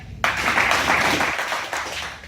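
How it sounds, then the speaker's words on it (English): Audience clapping at a motivational spoken-word event in Greenville, South Carolina, bursting in suddenly and continuing as a loud, dense patter from a room of people before tapering slightly near the end. "Clap a few times and hear me."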